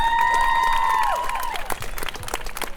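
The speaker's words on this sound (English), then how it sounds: "can we get a huge round of applause for Michaela" A crowd breaks into loud clapping and cheering after a sustained tone fades, the applause continuing steadily to the end.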